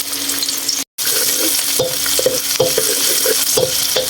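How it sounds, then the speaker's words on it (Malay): Shallots, garlic and ginger sizzle steadily in hot oil, with periodic scraping stirs of a spatula against the pan; a brief silent gap near the start, no voices. "Tumis bawang merah, bawang putih,"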